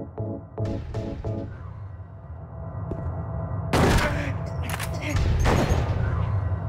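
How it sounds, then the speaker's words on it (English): Gunshots in the video game Silent Hill, with several loud sharp bangs in the second half over a steady game background hum, alongside brief speech. "How many shots can you take, Eddie?"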